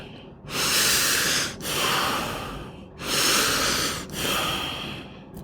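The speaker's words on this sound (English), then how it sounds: "So we're going to breathe 3 times." People take three deep breaths in a row, each a long, loud, airy inhale-exhale rush with short pauses between, close up and with no talking.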